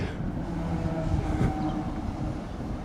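A low rumbling DART commuter train passes nearby on the railway along Bray promenade, steady rolling noise with faint squeals, no one speaking.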